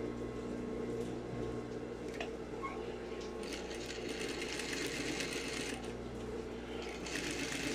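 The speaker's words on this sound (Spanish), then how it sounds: "voy a pasar un pespunte de un 16avo sobre la tela de forro" Sewing machine running a 1/16-inch topstitch seam on lining fabric, a steady mechanical whirring hum with ratcheting, clicking texture, close and continuous for several seconds with no talk.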